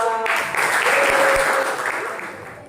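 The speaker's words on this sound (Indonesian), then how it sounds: "Tepuk tangan yang meriah buat kelompok 2." Classroom applause for a student group called up to present during a teaching practice lesson, a burst of clapping from the class that swells and then gradually tapers off.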